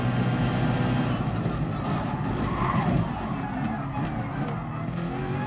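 A 1992 Nissan R92CP race car in GT Sport at Le Mans: a loud, steady engine roar at speed with tire noise, and a voice talking faintly underneath.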